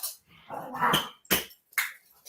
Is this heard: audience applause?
no